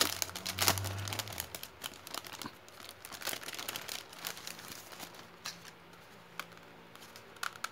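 Paper crinkles and rustles close up as a gift package is opened by hand, an uneven run of crackles and soft tearing with a louder burst near the start and quieter handling afterward.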